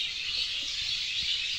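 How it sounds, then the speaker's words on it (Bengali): A dense evening chorus of birds fills the air with a steady, high chattering hiss that never pauses, fairly faint and heard on its own without any voices. "সন্ধ্যাবেলা পাখিগুলো খুবই চিল্লাচিল্লি করে"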